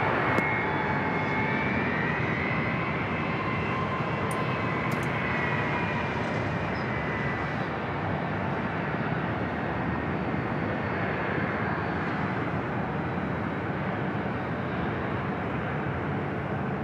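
Airliner jet engines at San Diego airport, a steady broad roar that holds at an even level throughout, loud and unbroken, with no voices.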